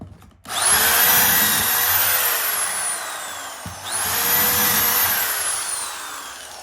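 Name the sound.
power drill driving screws into window frame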